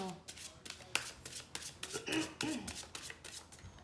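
Tarot cards from a Line Strider Tarot deck being handled and drawn, heard up close as a quick run of crisp flicks and papery snaps in an uneven rhythm.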